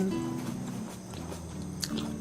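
Crunchy stir-fried sweet potato stems being chewed and bitten, repeated soft crunching bites close up over a low background hum, with no talk.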